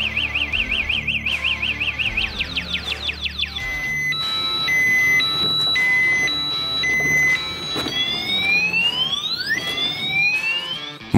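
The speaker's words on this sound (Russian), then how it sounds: "City Coco включит звуковое оповещение и заблокирует задние колеса." The anti-theft alarm of a CityCoco three-wheeled electric scooter sounds a loud cycling electronic siren, warbling tones followed by sweeping rising and falling beeps and chirps, heard alone without talk.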